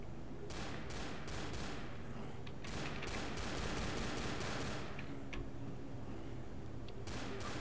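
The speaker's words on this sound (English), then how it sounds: "I'm gonna shoot him!" Gunshots in a Resident Evil zombie game: a rapid string of sharp shots sits over a constant, dense background din, with scattered single cracks later on and the firing never standing fully apart from the noise.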